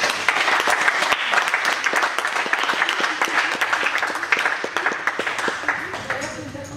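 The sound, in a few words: audience applause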